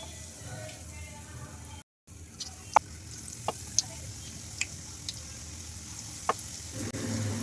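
Batter-dipped cutlets fry in a pan of hot oil with a steady, close sizzle, broken by sharp scattered pops and crackles and one brief dropout.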